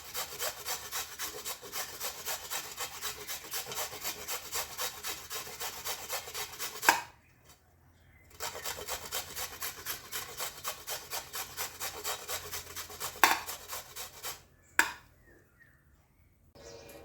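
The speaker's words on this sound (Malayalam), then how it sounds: "ചെറുതിൽ നമുക്കിങ്ങനെ ഒന്ന് ഗ്രേറ്റ് ചെയ്തെടുക്കാം." Carrot rubbed on the small holes of a kitchen grater makes steady rhythmic rasping strokes, close and even, in two long runs separated by brief pauses, with a few taps at the breaks.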